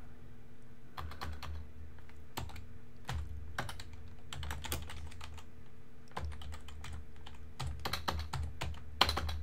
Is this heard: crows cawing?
no